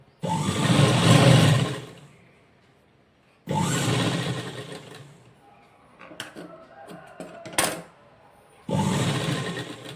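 Sewing machine stitching buckram cloth runs in three loud bursts separated by pauses, with quieter handling noises of fabric between the runs.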